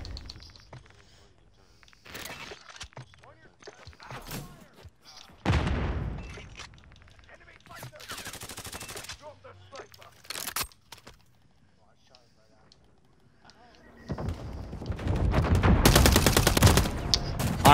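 Gunfire in the video game Modern Warfare 3 comes as scattered sharp shots and short bursts, ending in a loud sustained volley, with people talking between shots.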